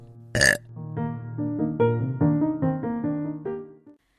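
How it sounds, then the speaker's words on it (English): A long, loud, drawn-out burp recorded up close, its pitch wobbling up and down for several seconds, with nobody talking. "we don't say what we think, we burp it out"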